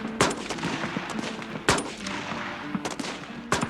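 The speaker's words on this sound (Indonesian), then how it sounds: "di satu hari di saat latihan menembak, ia menunjukkan bidikan dan ketepatan yang luar biasa" Rifle fire at a military shooting range in a Vietnam-era Marine training film scene: several sharp, loud single gunshots spaced irregularly apart, with clattering background noise between them.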